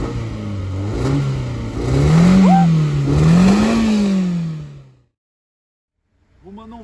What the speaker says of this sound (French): Tu peux nous mettre des coups de gaz un peu?